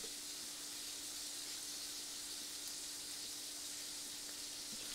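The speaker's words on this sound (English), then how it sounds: "You can see the bubbles, hear the sizzle." Burgers frying in a pan give a steady, even hiss of sizzling fat, constant and close throughout with a faint background hum and no speech.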